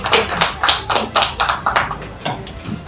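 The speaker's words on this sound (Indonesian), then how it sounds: "Aplaus buat kita bersama" An audience at a labour union membership meeting in Sukabumi claps in a steady, rhythmic beat, with sharp, close hand slaps repeating several times a second.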